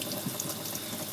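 Water running and sloshing over rice grains being rinsed in a bowl in a home kitchen, a quiet, steady wash of liquid with no voices.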